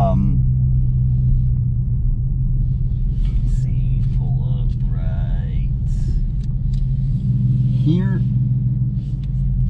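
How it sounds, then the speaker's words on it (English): A 2020 Ford Mustang running on E85 sits idling beside a gas pump, giving a steady, close low rumble throughout with brief voices passing over it. "I'm gonna go ahead and pull up in here and just let it run for a little bit by the gas pump."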